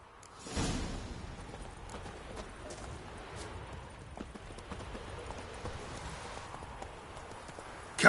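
Horse hooves clip-clop at a steady walking pace in a video game, soft and fairly distant over a faint ambient background, with an occasional louder step.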